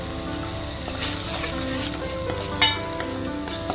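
Ginger garlic paste fries in a pan for a chukkakura chicken curry, a steady close sizzle broken by a couple of brief scrapes and clinks as it is stirred.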